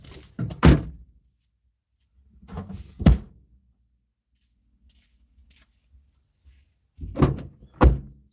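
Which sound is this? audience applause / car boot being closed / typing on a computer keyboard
car boot being closed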